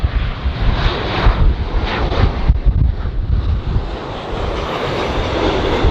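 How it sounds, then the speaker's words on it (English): Delta Airlines Boeing 737-800 arriving at LAX, a loud broadband engine roar close by, smeared with heavy wind buffeting on the microphone, continuous throughout with no talking. "Delta Airlines 737-800 it looks like."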